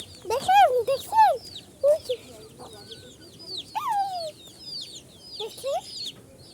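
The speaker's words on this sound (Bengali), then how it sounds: "এটা মুরগি, এটা এটা এটা একটা মুরগি।" Chickens cluck close by in short rising and falling calls with softer chatter from other birds in the flock, while a person talks over them at intervals.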